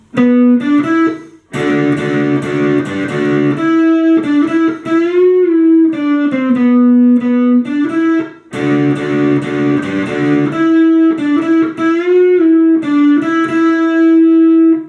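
A sustained, distorted electric guitar solo from a song with bending, singing notes and fast melodic runs, loud and up front with brief pauses between phrases.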